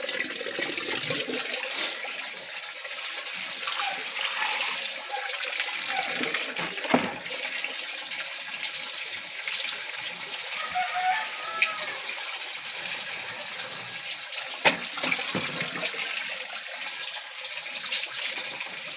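Water runs steadily from a tap, a continuous hiss and splash lasting the whole stretch with a few brief knocks and clatters over it and no talking.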